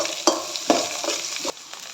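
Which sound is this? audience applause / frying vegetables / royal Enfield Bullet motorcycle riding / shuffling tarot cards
frying vegetables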